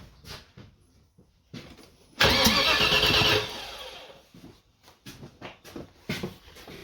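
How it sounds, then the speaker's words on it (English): Land Rover Discovery 2 V8 engine being cranked over by the starter during a rebuild, a loud churning burst of about a second, set between quieter tapping and shuffling workshop sounds. "I'll just set up a camera and crank the engine over"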